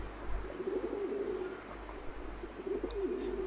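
A pigeon-like bird in a video game gives soft, low cooing calls in a repeated rolling pattern over a faint low hum, close and fairly quiet.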